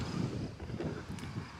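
Wind gusting across an outdoor golf course, a steady low rumbling buffet of air against the microphone throughout, fairly loud and continuous with no one speaking.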